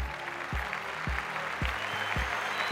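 Audience applause at the opening of a grand-final talent show in Venezuela stays fairly quiet and steady, while a regular low thump pulses underneath about every half second.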